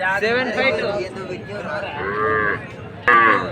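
An Ongole breed cow moos loudly and close at a busy cattle market, with drawn-out calls and a sharp final bellow, while people chat in the background.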